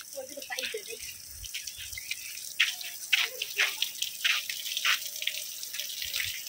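Water runs and splashes in short bursts as someone rinses their body by a swimming pool, close and moderately loud, with voices and activity around.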